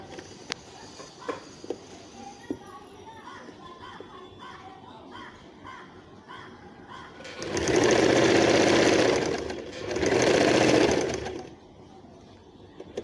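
Sewing machine stitching folded salwar fabric, running in two loud, close bursts of steady whirring separated by a short pause, after quieter handling sounds and light taps.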